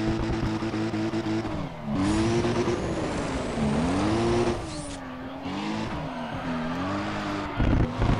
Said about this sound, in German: Hochgeschwindigkeitsdrift macht schon ziemlich viel Spaß, muss ich sagen